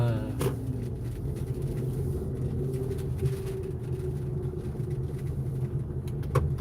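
Honda City car passing on a road, a steady rumble of engine and tyres heard up close, with birds calling faintly in the background.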